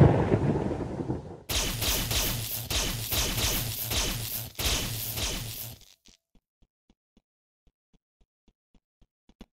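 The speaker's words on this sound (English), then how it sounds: "CTRL makes a continuous lightning strike that damages target." Thor's continuous lightning strike attack in the Dimensional Fighters game, a loud crackling electrical roar lasting several seconds and then cutting off, followed by a short run of faint, evenly spaced ticks.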